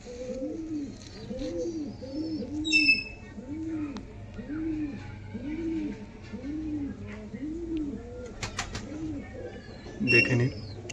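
Desi pigeons coo steadily in a repeating rhythm, close and clear, with a brief flutter and chirps around the middle and near the end.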